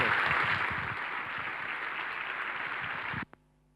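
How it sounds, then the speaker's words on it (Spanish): Dense, loud applause from an audience after a lecture at a teacher-training institute, sustained for about three seconds before cutting off abruptly, followed by a single faint knock. "Fuerte aplauso."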